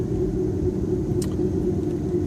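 A car pulls forward along a school drop-off lane, a steady close rumble of engine and road noise throughout.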